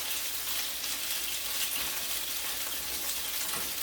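A chicken cutlet fries in a non-stick pan, giving a steady, close hiss of sizzling oil that holds evenly throughout without pauses or voices.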